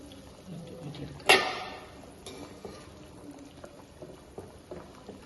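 Boiled potatoes for french fries are drained, with one sudden loud rush of water about a second in that tapers off, then low kitchen clatter and soft bubbling.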